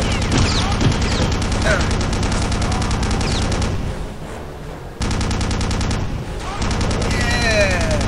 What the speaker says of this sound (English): Machine gun. That's the German MG42. It's got a super high rate of fire.